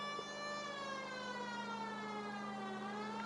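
A wailing police car siren from the LA Noire video game sounds loud and steady throughout, its tone sliding slowly downward with no talk over it.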